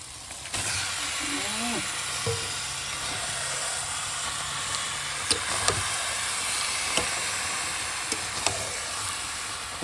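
Chicken drops into hot spiced masala in a pan and sizzles with a steady hiss, with a few stirring knocks and a voice speaking over it.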